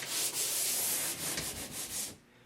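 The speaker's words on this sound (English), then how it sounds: "you'll probably want to use a pole sander rather than a piece of sandpaper" A pole sander scrapes across a wall being prepped for paint, making steady close rasping strokes with brief pauses between passes before trailing off.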